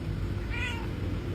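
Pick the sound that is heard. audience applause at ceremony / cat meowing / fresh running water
cat meowing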